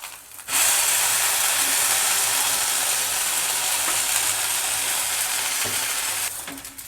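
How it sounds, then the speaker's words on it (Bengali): Batter frying in hot oil in a pan as a pancake-style snack is flipped to cook the other side, a steady broadband sizzle that holds evenly at close range for several seconds, with no talking. "অপর সাইডটা ঘুরিয়ে ভেজে নেব।"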